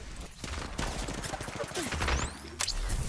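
Video game gunfire, rapid overlapping bursts of automatic shots rattling close and loud in a continuous volley, with sharper single cracks and a brief whizzing sweep near the end.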